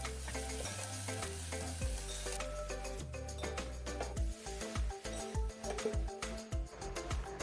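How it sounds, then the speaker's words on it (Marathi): Ginger and garlic sizzle in hot oil with mustard seeds and curry leaves while sambar is being made, a continuous frying hiss under louder rhythmic background music. "आता अद्रक लसूण टाकू. चांगलं भाजून घेऊ."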